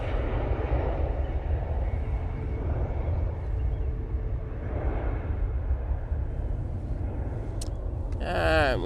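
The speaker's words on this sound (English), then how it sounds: "Aer Lingus, going back to Dublin now." Aer Lingus airliner departing Manchester Airport for Dublin, a broad continuous jet roar with slow swelling surges, fairly loud and steady at a distance, with a brief sharper whine and chirping sounds right at the end.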